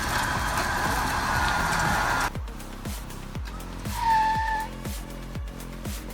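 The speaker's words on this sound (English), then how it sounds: "scraping sound between the stump and the pavement made this pulling scene feel powerful" A tree stump dragged along pavement by a Jeep Wrangler: a loud rough scraping roar, then a run of rhythmic grinding thumps as the stump bumps along, with engine noise underneath.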